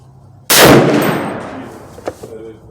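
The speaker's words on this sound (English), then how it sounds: "I'm just gonna squeeze off 1 round of the bottom target in the center." A single loud, sharp crack from a .338 Federal hunting rifle fired at a target on a range, ringing out and fading over about a second and a half, followed by a faint metallic clink.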